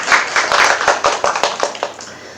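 Short burst of applause at a startup demo day, a few distinct hand claps close by, irregular and sparse rather than a full crowd roar.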